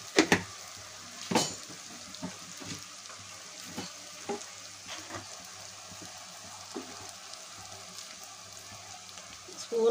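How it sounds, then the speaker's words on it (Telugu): Eggs cracked into fried onion and potato pieces in a pan for an egg and potato curry, sizzling steadily with crackles and a few louder stirring clatters near the start and end. "ఇలా వేగిపోయిన ఉల్లిపాయ బంగాళదుంపల్లో గుడ్లు వేసుకున్నాం"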